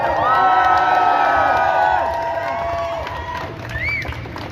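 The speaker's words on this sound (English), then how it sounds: "So apparently it's still very noisy in there when we're cheering" Protest crowd at a trans rights demonstration cheering and shouting, a loud dense roar of many voices with whoops and yells that eases slightly midway and swells again near the end.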